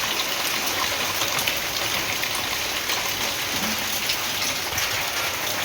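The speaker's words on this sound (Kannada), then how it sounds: "ಎಷ್ಟು ಮಳೆ ಬಂದಿದೆ ಗೊತ್ತಾ." Heavy morning rain pours down in a dense, continuous hiss with scattered drops pattering on surfaces, steady and close throughout with no voices.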